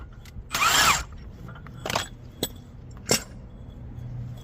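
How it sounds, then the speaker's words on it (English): A hand tool presses a front control arm bushing out of its arm, giving a loud mechanical whir followed by several short clicks and clunks up close with no talking. "All I did was press on the middle of the bushing, and it actually did pull it out."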